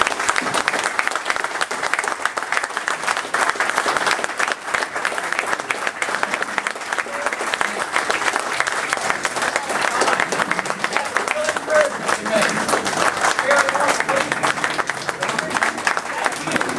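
A room of supporters at a Republican Party meet and greet breaks into sustained applause, loud and dense, continuing steadily for many seconds with a few cheers and murmurs mixed into the clapping.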